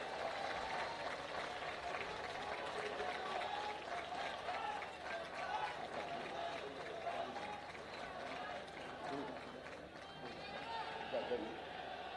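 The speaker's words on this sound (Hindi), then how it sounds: "एक बार जोरदार ताली भगवंत मान साहब के लिए" A crowd at a party workers' convention for Punjab Chief Minister Bhagwant Mann gives sustained, dense applause and cheering, with a steady roar that holds for the full stretch, loud and close.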